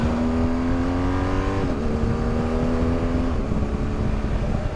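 A truck rumbles steadily past a BMW R1250 GS Adventure motorcycle on a Canadian road, a loud, sustained engine drone with a pitch shift as it goes by, no talking.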